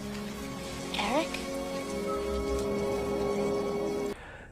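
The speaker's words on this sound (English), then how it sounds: "I wish the rain would stop just once. It can't rain all the time." Steady rain falling in a dark, rain-soaked movie scene from The Crow, a continuous wash of drops under a brief spoken call and sustained musical tones, cutting off abruptly near the end.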